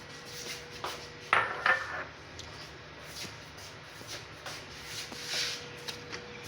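Whole spices tipped into a cooking pot make a brief, soft clatter and rattle of small hard pieces, fairly quiet and close, followed by faint scattered taps and rustles.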